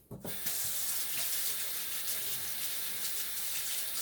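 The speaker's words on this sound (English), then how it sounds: "we're going to wash our hands first" Tap water runs steadily into a sink as hands are washed before handling meat for meatloaf, a continuous close hiss and splash that starts abruptly and holds without talk.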